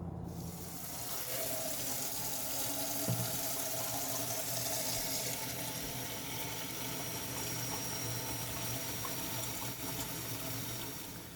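Tap water runs steadily into a basin to fill a soaking bath for a pet Central American boa, a continuous close gushing rush that holds even throughout.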